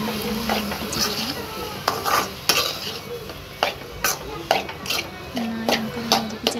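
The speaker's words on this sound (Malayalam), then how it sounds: "അതിലേക്ക് ഞാൻ നന്നായി പൊടിച്ച് വെച്ചിരിക്കുന്ന ഉരുളക്കിഴങ്ങ് ചേർത്ത് നന്നായി ഇളക്കി" Mashed potato being stirred into a masala in a pan for chicken cutlets: repeated scraping and clinking strokes of a spoon against the pan, close and fairly loud, with faint sizzling underneath and a voice talking at times.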